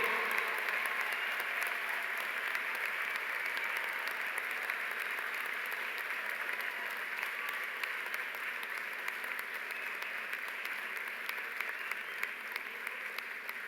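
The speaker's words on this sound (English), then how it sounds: "I ask your friends and family to join me in applauding the 50th anniversary amazing graduating class of October 2015" Friends and family applaud the graduating class at a university convocation ceremony, a sustained, even roar of crowd clapping that holds steady from start to finish.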